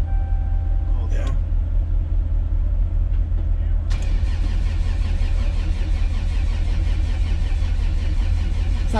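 A car engine turns over repeatedly without catching, a steady cranking rumble that runs loud and continuous through the whole stretch, with a sharper burst partway in.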